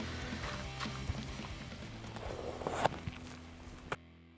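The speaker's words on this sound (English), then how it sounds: "Walk up there and see how it was." Footsteps walking outdoors during a black bear hunting trip in New Brunswick, irregular crunching steps at close range with a few sharper knocks, no talking.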